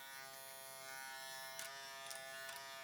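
Suprint Fang electric hair trimmer running, a steady close buzzing hum with bright harmonic whine, brief clicks or blade contact bursts near the end, no voices.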